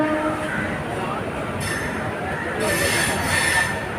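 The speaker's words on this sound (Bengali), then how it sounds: "আমাদের হাওড়া থেকে ট্রেন ছেড়ে দিয়েছে" Train departing Howrah station, heard from on board as a constant loud rumble of wheels on track, with faint squeals and rattles throughout.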